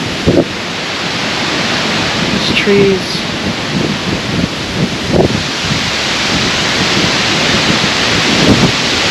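Strong wind roars without a break across a homestead during a thunderstorm, with gusts buffeting the microphone. A person talks briefly over the constant wind noise.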